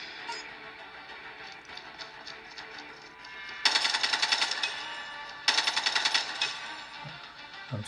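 Automatic gunfire from a mobile video game played on a Pixel 4a phone, in two sustained rapid bursts of evenly spaced shots, each lasting about two seconds, clear over a quieter game backdrop.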